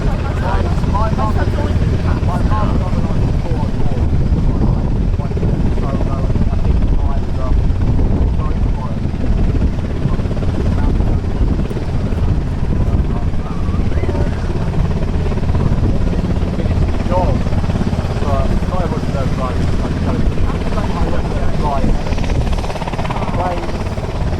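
Steady, loud helicopter rotor and engine drone fills the whole stretch at Caernarfon Airport, with people talking faintly underneath.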